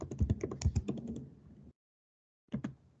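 Computer keyboard typed in two bursts while entering a terminal install command: a quick run of close, crisp keystrokes for about a second and a half, a pause of silence, then a few more keys.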